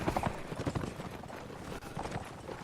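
Horse hooves clip-clop in a video game, a steady brisk rhythm of hoofbeats mixed with ambient game noise, moderately loud and continuous throughout.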